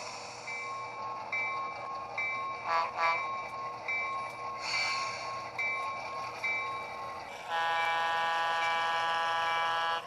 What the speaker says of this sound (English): The crew once again pumps up the air on the train